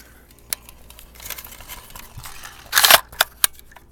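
Sharp metallic clicks and a loud clacking rack as an AR rifle's charging handle is pulled and the bolt locks back, close and crisp with a few single clicks before and after.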